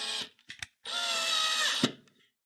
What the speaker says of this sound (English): I find it good practice to run your drill backwards first to find the threads rather than cross-threading through the plastic.